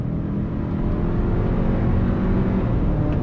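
A 2022 Hyundai Santa Cruz pickup on throttle out of a right-hand bend after a paddle-shift downshift, its engine a loud, steady, close drone from inside the cabin.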